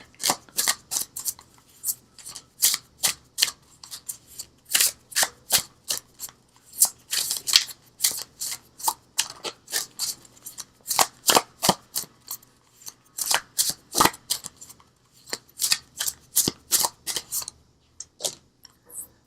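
An oracle card deck is shuffled by hand, giving a long run of crisp, irregular riffling bursts that come in quick clusters with brief pauses between them, close up and with no talk.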